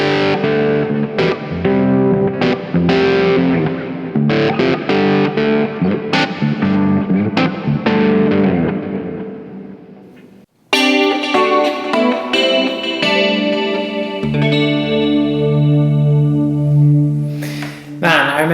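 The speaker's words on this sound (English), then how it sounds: "It's a pretty great guitar sound, drums sound cool." An electric guitar riff played with heavy distortion and effects, with chorus and echo on the chopped chords. It cuts off, then gives way to a sustained, ringing section with drums and bass in a full rock track.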